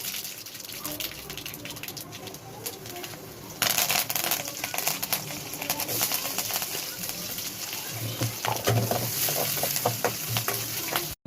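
Mustard seeds and chana dal crackle and sizzle in hot oil for rice vellam upma, a steady frying hiss with scattered pops that grows louder partway through.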